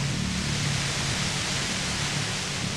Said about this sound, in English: The white noise turns into a wall of mist and grey mold